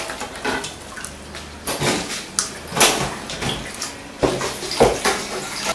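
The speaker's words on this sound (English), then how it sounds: "Okay, so we're adding cold water, trying to get the juice from it." Cold water pours and splashes in a pot as hands squeeze ingredients for Atama soup stock, with irregular sloshing bursts and faint clinks of dishes, close up.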